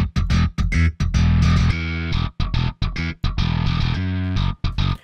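Heavy progressive bass played through a guitar amp and split across two tracks, with thick distorted mid-range chugs broken by short rhythmic stops and sustained riffing, loud and up front with no talk.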